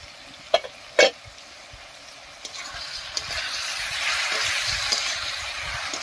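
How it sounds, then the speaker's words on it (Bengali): Two sharp clinks sound as the lid comes off a pot of gourd and pabda fish curry. A steady sizzle and bubble of cooking follows and grows slightly louder. "এবারে ঢাকা তুলে নেব।"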